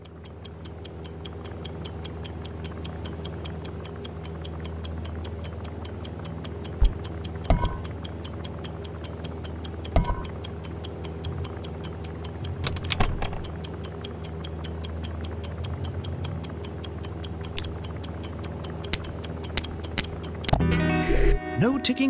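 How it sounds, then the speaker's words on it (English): A ticking bomb in the VR spy game I Expect You To Die ticks steadily and evenly throughout, a fast regular clock-like pulse under occasional speech, with a few louder clunks and a busier burst near the end. "Oh, the old ticking bomb."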